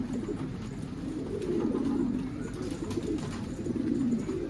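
Pigeons cooing close by, with soft, overlapping low coos repeating continuously over a steady background hum.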